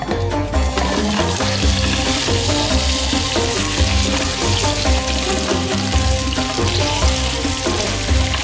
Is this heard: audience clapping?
no